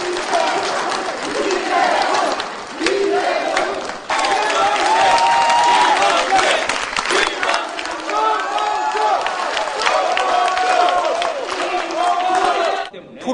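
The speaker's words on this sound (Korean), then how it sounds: "각 후보 지지자들은 손뼉을 치며 경쟁적으로 후보들의 이름을 외쳤습니다" A crowd of supporters at a Saenuri Party Seoul mayoral primary policy debate claps and chants candidates' names, a loud, sustained roar of cheering with rhythmic shouts and a reporter speaking over it.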